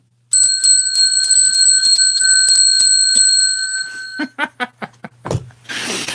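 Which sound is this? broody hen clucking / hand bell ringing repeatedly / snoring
hand bell ringing repeatedly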